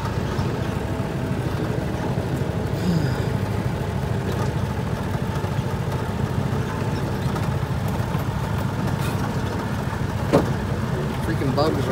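A power-steering farm tractor runs steadily during hay baling, a continuous low, rumbling engine drone at close range with a few faint clanks and brief noises on top.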